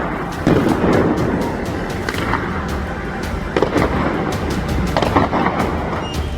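Sharp, cracking gunshots from security forces firing on street protesters in Iran go off repeatedly at irregular intervals over a noisy outdoor din, some close and loud, others more distant.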